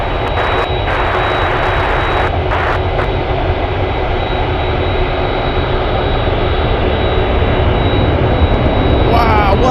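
A Douglas DC-3 propeller airliner taxiing at Anchorage airport gives a steady, loud engine drone throughout, with people talking over it.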